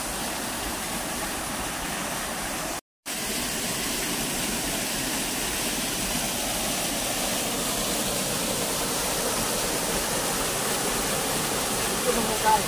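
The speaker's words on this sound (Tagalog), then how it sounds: "Ang lakas ng tubig." Strong rushing water pours over rocks at a waterfall, a steady loud broadband roar that fills the scene from start to finish, with one brief dropout near the start.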